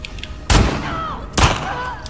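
Two loud gunshots from the video game The Last of Us Part II crack out about a second apart, each followed by a short ringing tail over low background noise.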